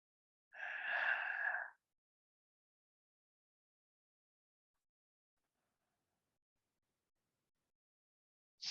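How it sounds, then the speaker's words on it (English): A soft hissing, ocean-like yoga breath is exhaled through a constricted throat, one steady breathy rush lasting about a second, close and alone in near silence, with another breath just starting at the end. "softly constrict the back of your throat to make a hissing or ocean type sound with your exhale"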